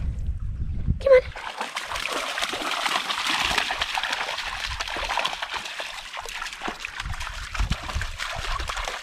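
Continuous splashing and sloshing water up close as a dog wades and thrashes through a river in the Scottish Highlands, with a brief squeak at the start.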